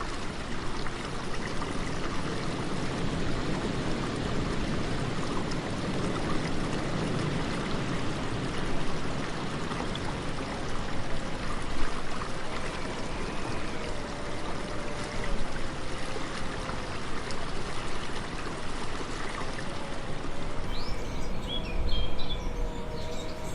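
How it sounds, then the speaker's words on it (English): Steady flowing stream water runs beneath a wooden bridge in a forest, a continuous close rushing wash with no voices and a few faint bird calls over it. "The sound of the water is soothing, its rhythm steady and timeless."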